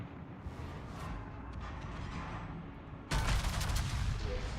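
Heavy naval guns in World of Warships rumble in a low continuous barrage, then a louder, close salvo erupts and keeps booming to the end.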